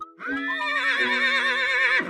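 A horse neigh sound effect from a video game about a battle, one long, loud, close whinny with a wavering pitch, heard alone.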